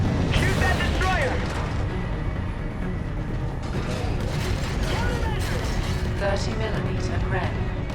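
Dense, continuous gunfire and booming explosions during a ship battle against a destroyer in Call of Duty: Infinite Warfare, loud and sustained throughout with overlapping blasts, mechanical clatter and radio-style voices mixed in.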